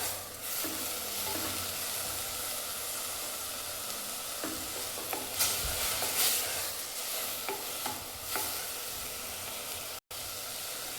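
Palak spinach frying in a pan, a steady hiss and sizzle with repeated stirring scrapes and clicks, a brief dropout near the end.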